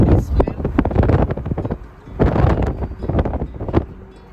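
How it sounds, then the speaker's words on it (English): Wind gusting against the microphone on a mountain road between Mirik and Lataguri in moist, cold weather, with loud buffeting rumbles that rise and fall in gusts. "The weather right now is the wind which we can feel is a bit moist and cold"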